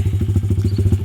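An air-cooled X-Moto XV 125 motorcycle engine idling to warm up on its carburetor, a close, loud, steady low putter of rapid even pulses with no voices.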